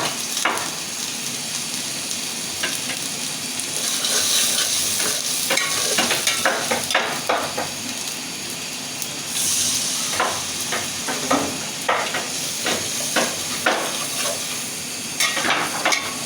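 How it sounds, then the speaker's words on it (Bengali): Whole garlic, onion and chili frying in spice paste for hilsa khichuri, a steady loud sizzle with repeated scraping stirs of a spatula against the pan throughout, no voices. "মশলাটা আমি ভালোভাবে কষিয়ে নেব"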